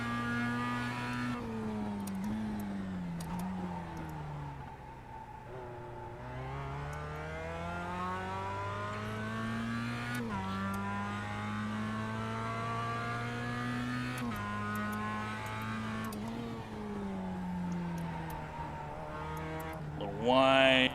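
Mazda MX-5 Cup race car driven hard around Circuit Park Zandvoort, its engine droning loud and steady from inside, pitch climbing and falling through gear changes, with a voice talking over it.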